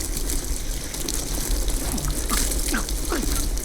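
Water poured over a captive during a Call of Duty Modern Warfare interrogation scene, a continuous splashing gush over a low rumbling game soundtrack, loud and sustained throughout.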